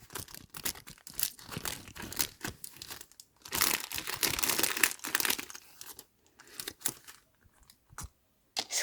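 Paper surprise bag with a paper clip and Pop It toy inside being handled and opened, giving close, loud bursts of crinkling and rustling that come in quick irregular runs, with a denser stretch midway and short pauses near the end.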